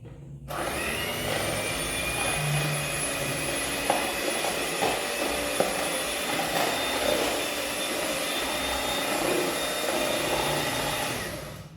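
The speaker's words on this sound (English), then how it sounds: "I'm going to whisk our eggs." Eggs for a homemade carrot cake are being whisked, giving a steady, close, motor-like whirring that holds at an even level for the whole stretch with no talking.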